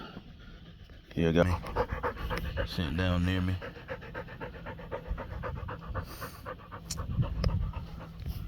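Rottweiler panting close by in quick, steady breaths outdoors, with someone talking briefly over it and a few sharper exhalations near the start.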